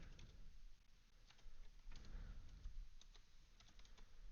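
Typing on a computer keyboard while entering a database command, with quiet, scattered key clicks in an irregular rhythm over a low background hum, close and faint.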